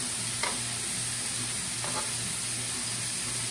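Thin-sliced Philly cheesesteak meat fries in a pan with a steady, close sizzling hiss that never lets up, and a couple of brief stirring scrapes break through it.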